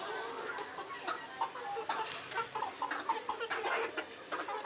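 Several free-range village chickens on a poultry farm in Jalgaon cluck and murmur nearby in short, irregular bursts, the calls overlapping against a quiet indoor background.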